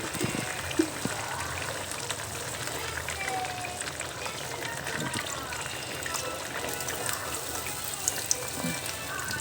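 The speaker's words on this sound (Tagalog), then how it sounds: "Lagyan pa ng tubig." Water pours steadily into a cooking pot of simmering vegetables for pakbet, a continuous splashing rush lasting the whole stretch at moderate loudness.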